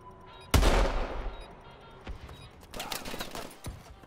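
Gunfire in a video game match, with one loud close sniper rifle shot followed by a ringing decay, then scattered fainter shots and bursts further away.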